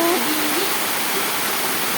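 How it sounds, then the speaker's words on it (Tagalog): Heavy rainwater rushing down from a hillside during a strong rainstorm with wind, a loud, steady broadband roar of flowing water close by, with a brief tonal sound near the start. "Pero mas grabe ang tubig galing burol."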